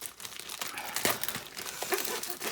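An orange Temu mailer bag wrapped in heavy tape is pulled and torn open, giving continuous close crinkling and crackling plastic with ripping tape bursts.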